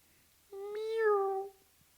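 A storyteller's voice imitates a kitten's meow: a single drawn-out, rising then falling mew, clear and close against quiet.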